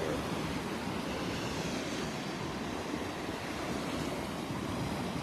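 Surf rolls in steadily on a Naples, Florida beach on a rainy early morning, a dense continuous roar of churning waves with wind noise mixed in, loud and unbroken throughout.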